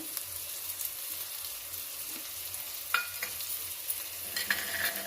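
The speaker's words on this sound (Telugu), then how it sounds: "కొత్తిమీర వేస్తున్నానండి." Fresh coriander sizzles steadily in a hot frying pan while a spoon stirs it, with a few sharper scrapes and clinks against the pan partway through.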